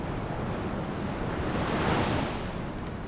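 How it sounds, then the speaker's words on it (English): Pacific Ocean swell and surf wash steadily past a boat on an open-sea crossing, a loud, continuous broadband roar that swells slightly near the middle, mixed with wind noise on the microphone. "The swell has gotten worse."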